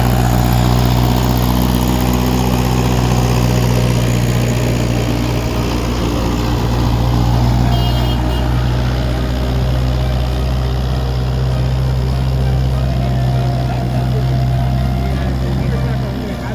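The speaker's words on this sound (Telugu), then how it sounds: "ఈ విధంగా ట్రాక్టర్లో లోడ్ వేసుకొని వస్తాము." A tractor hauling a load of soil during road building up a hill, its engine droning steadily and loudly throughout with a low, constant rumble close by.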